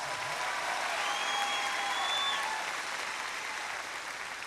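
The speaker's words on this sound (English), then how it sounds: "Give them one more collective round of applause." A school district convocation audience applauds for its Teachers of the Year, a steady, dense wash of clapping from a large crowd that holds evenly for several seconds, with a few whistles rising above it.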